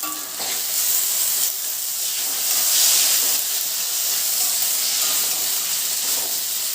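Basmati rice tossed with Schezwan chutney in a hot pan, a steady loud sizzle and hiss with scraping stir strokes throughout, no talking.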